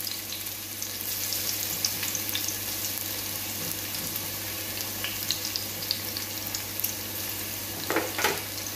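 Garlic frying in a pan, a steady broadband sizzle with faint clinks and scrapes running throughout and a couple of brief louder taps near the end.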